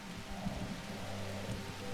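Steady rain in The Universim video game, a soft continuous hiss with faint low rumbling underneath, even and unbroken throughout.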